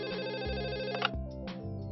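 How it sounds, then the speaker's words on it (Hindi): A phone rings with an electronic melodic ringtone, a close, steady sequence of tonal notes that plays on continuously with no voices. "वंशा, देखना किसका फोन है बच्चा?"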